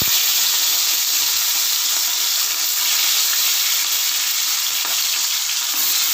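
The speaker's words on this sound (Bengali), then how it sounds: "এবার নুন হলুদ মাখিয়ে রাখা মাছগুলো আমার 10 মিনিট ওপর হয়ে গেছে, আমি এবার ভেজে নেব।" Turmeric and salt marinated fish frying in hot mustard oil, a steady close crackling sizzle that carries on evenly throughout with no talking.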